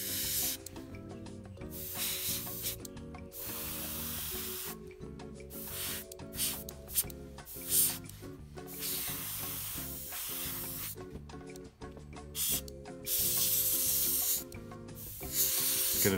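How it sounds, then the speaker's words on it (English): An airbrush hisses in repeated short bursts while spraying Mission Models paint onto a 1/56 Rubicon M4 Sherman tank model, cutting in and out over steady background music. "Get a nice fine spray pattern there so you can"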